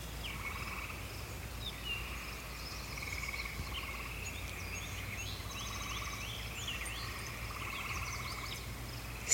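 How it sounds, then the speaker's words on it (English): Frogs croak in a steady, dense chorus at dusk on a rural homestead, mixed with chirping insects, a continuous rhythmic drone with no voices. "Frogs are out."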